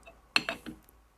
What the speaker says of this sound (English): does the old chuck wrench fit it?